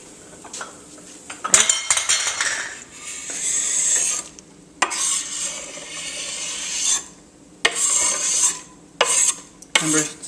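Diced onion tipped into a pot for a healthy chili and stirred, bursts of scraping, rasping utensil strokes against the pot alternating with short pauses.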